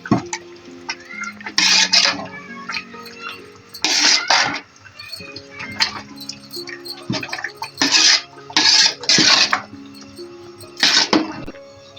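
Old Delhi shola being stirred in a pot with ginger, green chilli and ground garam masala: bursts of scraping, sloshing spoon-against-pot sounds in irregular strokes, moderately close, with quiet gaps between them.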